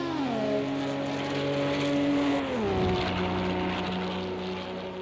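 Race car engine in a Le Mans 24 Hours sim racing game, a steady loud drone with stacked harmonics that dips in pitch partway through as the car slows, then holds a lower tone.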